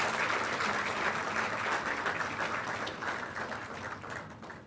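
Audience applause at a state-level honours ceremony in Haryana for UPSC and IIT-JEE qualifiers, a dense, steady wash of many clapping hands that holds throughout and fades slightly toward the end.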